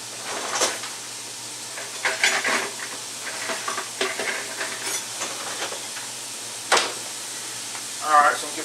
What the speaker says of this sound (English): I'm gonna get my spatula here and start browning this meat off